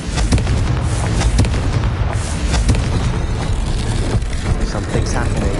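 Confringo fire spell in Hogwarts Legacy bursting into loud, booming explosions with crackling debris, a dense continuous barrage close by.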